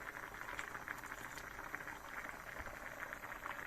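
Pasta boiling in a pot on a gas stove, a steady bubbling, crackling simmer with small pops throughout, close and fairly quiet, no talking.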